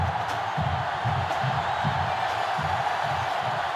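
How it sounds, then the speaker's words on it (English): Stadium crowd noise in the NCAA Football 2005 video game, a sellout crowd producing a steady roar with a rhythmic low pulsing chant beneath a continuous wash of cheering. "This sellout crowd is really making a difference now as these guys can't even call the play."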